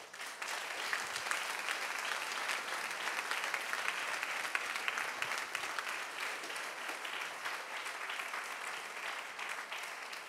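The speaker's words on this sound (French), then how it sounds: "Je voudrais qu'on s'applaudisse pour tout ça." Steady, dense applause from a large audience at an alumni day closing evening in Paris, filling the room evenly for about ten seconds with no voices over it.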